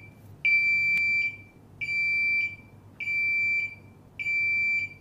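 A SATO CL4NX Plus label printer's alarm sounds on defect detection, giving four evenly spaced, loud, shrill electronic beeps, each lasting under a second, with nothing else audible.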